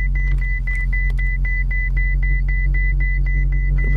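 A car engine rumbles loud and steady in a backyard, with a regular beeping tone repeating at short even intervals over the low drone.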